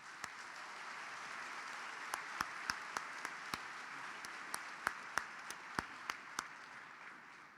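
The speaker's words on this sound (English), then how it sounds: "Please join me in giving them all a round of applause." Commencement audience at a law school graduation ceremony applauding: a soft, sustained wash of distant clapping with a few sharper, closer claps standing out, no speech over it.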